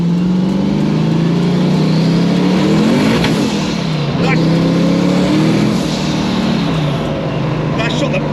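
A 1000 bhp turbocharged LS V8 Datsun 280Z accelerates hard. The engine roars loudly with rising pitch sweeps as it climbs through the revs, and there is a short lift and gear change midway.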